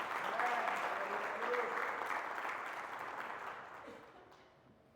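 A church congregation gives a round of applause, dense clapping that holds steady and then gradually fades away over about five seconds.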